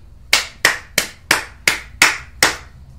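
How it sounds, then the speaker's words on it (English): Hand clapping, seven sharp claps in a steady, even rhythm, close and clear over quiet background hum. "we gon' clap it up"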